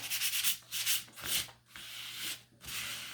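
Sandpaper rubbed by hand gently over a wooden Canada Day sign, a close, soft scratchy hiss in steady back-and-forth strokes with brief pauses between passes.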